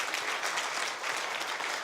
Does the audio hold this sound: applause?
yes